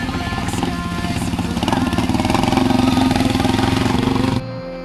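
Dirt bike engine under way on a beginner trail ride, a close rhythmic buzzing putter that builds slightly in intensity, then cuts abruptly to a quieter tone near the end.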